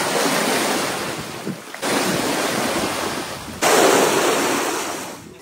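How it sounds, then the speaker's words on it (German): Ocean waves break on a beach near Dubai, a loud, continuous surging wash of surf with strong wind rushing over the microphone. "lässt sich am Strand von Wellen verwöhnen"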